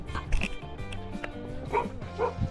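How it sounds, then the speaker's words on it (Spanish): A small dog barks in short, sharp yips, about three close bursts spread across a couple of seconds, during a fly fishing outing in Castilla y León, Spain. "Mi perrito es el que está ladrando"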